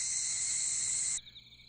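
Crickets chirp at night in the video game The Fruit of Grisaia, a steady high trill that stops abruptly after about a second, leaving faint chirps.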